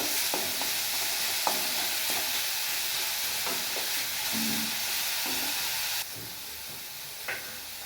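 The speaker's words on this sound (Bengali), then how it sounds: "ভালো করে নেড়ে চেড়ে নেবো। পেঁপের যে জলটা থাকে সেই জলটা শুকনো হয়ে গেলে বাকি মশলাগুলো আমি দেবো।" Papaya fries in a pan with a continuous hissing sizzle while a utensil stirs it, giving occasional soft scrapes and taps, close and steady, with no talking.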